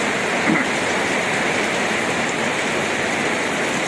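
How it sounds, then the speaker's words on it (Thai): Heavy rain pours down in a loud, unbroken hiss that fills the entire clip with no pauses or other sounds. "ฝนตกอย่างแรง"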